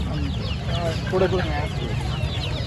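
Small chickens clucking at a busy pet market, with soft, brief clucks and chirps rising over steady crowd murmur while someone speaks nearby.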